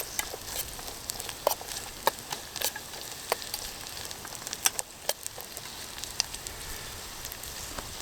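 Onion, shallot, chilies and carrots stir-fry in a pan on a Trangia 27 camping stove outdoors, giving a steady, moderate sizzle. Sharp crackles and pops come at irregular moments throughout, and no one speaks.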